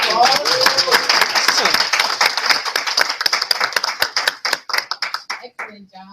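Audience applause at a live business event, a dense crowd of clapping hands that holds steady, then thins into scattered separate claps before stopping.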